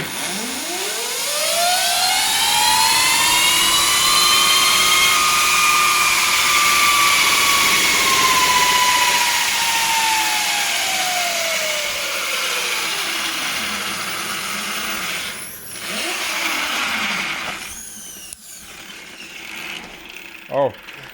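An electric Honda CRF motorcycle spins its rear tire against a dyno roller, its loud whine sweeping up in pitch, holding, then falling away, with a few clanks and knocks at the end.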